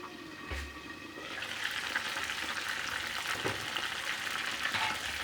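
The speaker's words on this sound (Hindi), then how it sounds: "हमारा भी चिकन हो रहा है रोस्ट।" Chicken frying in a pan, a continuous loud sizzle and crackle of hot oil with a few soft clunks, steady throughout with no voices.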